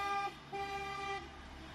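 Car horn from a passing motorcade heading into town: two faint toots from a distance, a short one and then a longer one.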